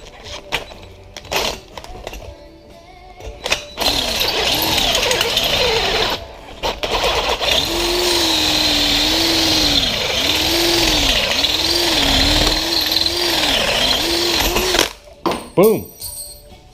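A power drill with a sharp bit drills out the seat rail rivets on an OBS Chevy truck seat, giving a steady whine that rises and dips under load for several seconds between short clanks and bursts of speech.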